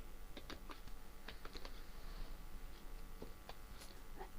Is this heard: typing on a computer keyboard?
yes